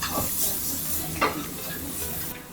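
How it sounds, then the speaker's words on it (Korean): Korean pork stir-fries in a frying pan in a small snack-restaurant kitchen, a steady close sizzle and hiss broken by a few sharp spatula scrapes, with no talking. "프라이팬에 국산 돼지고기를 넣습니다."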